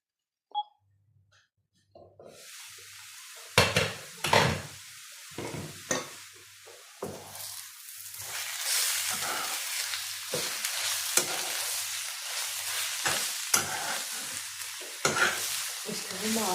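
Red onions fry in a pan, a bright crackling sizzle that builds after a quiet start and runs on steadily, broken by repeated clanks and scrapes of stirring.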